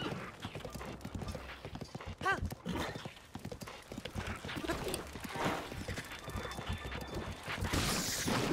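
A horse gallops in Zelda: Breath of the Wild, its hooves clip-clopping in a fast, rhythmic run with a brief whinny partway through. A player's voice talks over the hoofbeats for much of the stretch.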